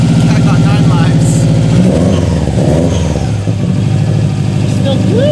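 A crashed Subaru WRX engine idles and revs close by, a loud rough mid-pitched drone that dips and swells, with voices talking over it.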